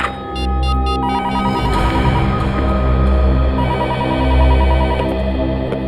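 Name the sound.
telephone ringing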